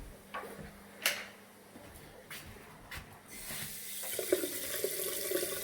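Water runs from household taps, with several sinks, showers and basins open at once on a mains-boosted supply. A few knocks and clicks come first, then a steady close rush of flowing water builds and continues.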